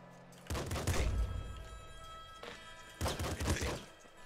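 Gunfire and bullet impacts in the Nuclear Throne video game, two dense bursts of rapid shots separated by a short lull, loud and close.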